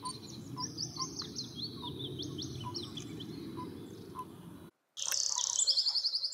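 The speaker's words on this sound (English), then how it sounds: "Let's listen to the mating call in the toad." A toad's continuous high trilling mating call repeats against a dense chorus of chirps and insect-like buzzing, with a brief gap before a louder trill resumes.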